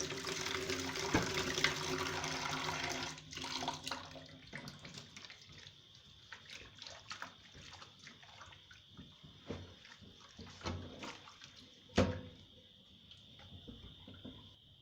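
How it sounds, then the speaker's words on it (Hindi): Running hot water splashes steadily at first, then gives way to intermittent foam-sponge scrubbing of a nonstick pan, clinks and small splashes, with a sharp clack near the end. "इनको गर्म पानी और इस वाली फोम से लिक्विड वाश की मदद से धोएं।"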